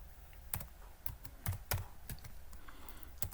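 Keys clatter on a computer keyboard, a run of close, irregular clicks and taps with a few louder strokes.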